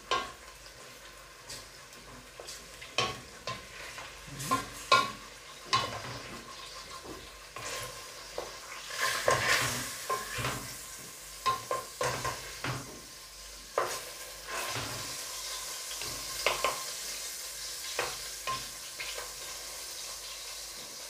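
Oil fries in a pan while green beans and chicken rolls cook, a soft continuous sizzle broken by repeated clicks and scrapes of stirring utensils, fairly quiet and close, with no one talking.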